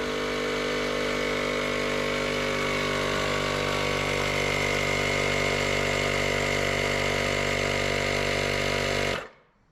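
A small electric air compressor hums steadily and loudly while inflating a suspension airbag on a 2021 Grand Design Imagine 2500RL travel trailer, a constant mechanical whine that cuts off abruptly near the end.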